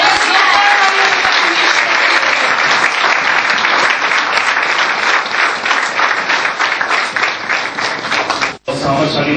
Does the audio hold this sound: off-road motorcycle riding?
no